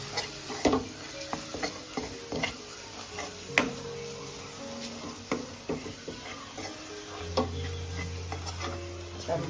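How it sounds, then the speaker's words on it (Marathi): A spoon stirs garam masala and homemade red Agri chilli masala in a pan for a crab sukka, giving repeated clicking scrapes against the metal over a soft sizzle, close and fairly steady, with no talk. "गरम मसाला आणि आपला घरचा लाल तिखट आगरी मसाला आपला मस्त का मिक्स करून घ्यायचा"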